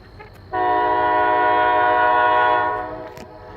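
A Kiamichi Railroad locomotive horn near Idabel, Oklahoma sounds one loud, steady chord-like blast of about two seconds, close by, then fades away over a low rumble.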